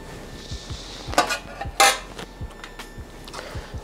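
Bacon mixed back into a cheesy potato mixture, with a few close metallic clanks and scrapes of a utensil against a pot or bowl over a low background hum.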